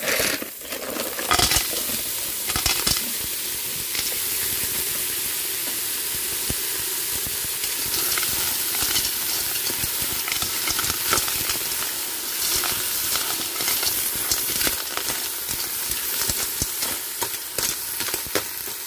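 Crab pieces sizzle and fry steadily in a hot pan for a coconut-milk taro dish, a loud, continuous crackling hiss with occasional sharper pops and stirring scrapes, no voices.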